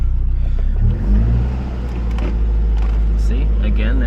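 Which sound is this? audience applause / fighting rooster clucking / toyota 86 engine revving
toyota 86 engine revving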